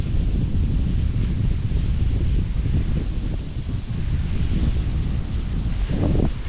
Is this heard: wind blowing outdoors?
yes